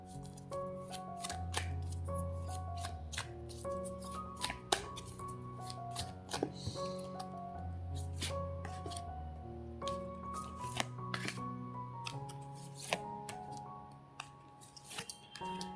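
Tarot cards are shuffled and drawn in close, crisp flicks and soft slaps, repeated irregularly over quiet background music.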